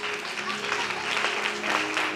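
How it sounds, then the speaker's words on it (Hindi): A church congregation at an Independence Day sermon bursts into steady, dense applause that fills the whole brief moment. "तो जोरदार तालियां"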